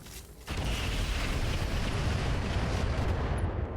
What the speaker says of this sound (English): I do want to fire the rocket packs here, but I'm not going to fire the bombs.